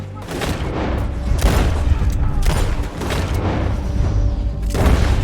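Gunfire in Red Dead Redemption 2 during a shootout, a rapid series of loud booming shots and rumbling blasts layered over each other across the whole stretch, with game chatter in the background.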